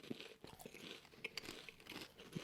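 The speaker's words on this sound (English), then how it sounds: "They're crunchy though." Christmas-flavoured potato crisps crunch between teeth in close, quiet bites, several crisp snaps and crackles scattered over a couple of seconds.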